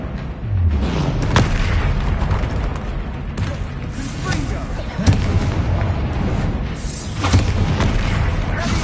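A Bombarda blasting spell detonates during Hogwarts Legacy combat, amid a string of repeated booming blasts and sharp impacts layered over a constant roar of game noise, with several louder explosive hits standing out.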